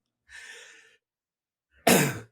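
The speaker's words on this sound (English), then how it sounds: "I've been coughing the last 4 weeks, and I can't get rid of this hack." Two coughs from a man with a lingering four-week hacking cough: a softer, breathy one first, then after a pause a louder, harsher cough up close.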